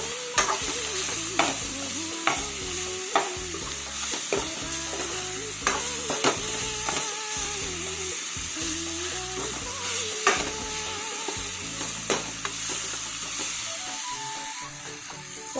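Cumin, turmeric, coriander and red chilli powder sizzle in hot oil in a pan for a potato curry, with steady frying hiss and repeated scraping strokes of a spoon stirring throughout.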